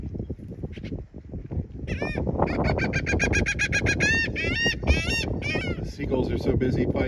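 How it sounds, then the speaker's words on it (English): Seagulls squawking loudly while fighting over food, a dense overlapping chorus of harsh repeated cries close by, building from scattered calls into continuous clamor. "The seagulls are so busy fighting."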